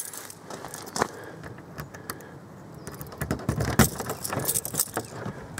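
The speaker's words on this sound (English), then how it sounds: "Let's unlock this lock." Keys jangle and click against the lock of an Eccles Topaz SE two-berth touring caravan, a close, light metallic rattling with a few sharper taps over quiet background noise.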